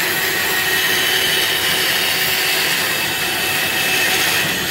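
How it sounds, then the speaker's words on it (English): An oscillating spindle sander runs steadily in a machine shop, a loud, continuous broadband whir and hiss of motor and abrasive with no breaks and no talking. "these airfoils are going to be sanded on a oscillating spindle sander behind me"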